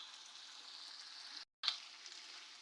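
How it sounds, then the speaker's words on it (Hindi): Chicken gizzards and liver sizzle softly in a pan, a quiet continuous frying hiss broken by a brief cut of silence, then resuming with a small pop. "ये 5 से 7 मिनट मैंने अच्छी तरह इसको फ्राई कर ली है।"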